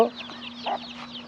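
Chicks clucking and peeping close by in a short burst of several soft calls over a faint steady hum, with no talk.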